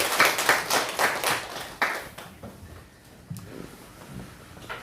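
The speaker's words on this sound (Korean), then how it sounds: "우리 하나님께 영광의 박수를 올려드리겠습니다" A church congregation applauds during a Sunday worship service, with a burst of dense clapping that gradually thins out and fades into quiet room tone by the end.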